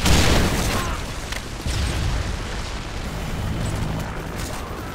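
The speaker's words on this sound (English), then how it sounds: "Friendly Predator missile inbound." A Predator missile strike explodes in Call of Duty Modern Warfare 3 team deathmatch, a loud booming blast followed by a sustained rumbling roar amid distant battle noise.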